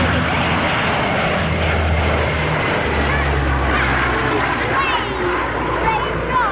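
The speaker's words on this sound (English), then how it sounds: "that was a little snippet from the Belgium F-16 display" A Belgian F-16 fighter jet flying its display at the Fairford air show gives a loud, sustained, roaring rumble with no break, and voices can be heard beneath it.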